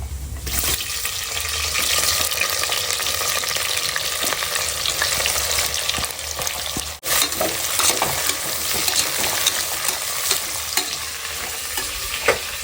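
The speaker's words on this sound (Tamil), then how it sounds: "வெங்காயம் நல்லா வதங்கட்டும்" Chopped onions fry with cinnamon, cloves and cardamom in an oiled pan, giving a loud, continuous sizzle overlaid with frequent scraping and stirring of a spoon, with one brief pause partway through.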